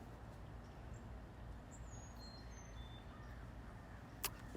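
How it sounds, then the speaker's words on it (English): A flock of crows calls as it flies in: a few faint, distant caws and chirps over steady outdoor background noise, with a sharp knock near the end. "you can see the birds kind of coming in"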